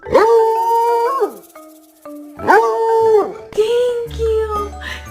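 A dog gives long, wavering howls and yowls, two drawn-out calls close by with a few short whimpers between them and some rustling near the end.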